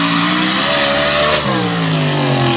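A blown alcohol drag race car accelerates hard down the Sanford strip, the supercharged engine roaring loud and close with harmonics climbing in pitch as it pulls away.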